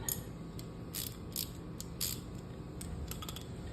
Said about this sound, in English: hold the nut, and tighten it up.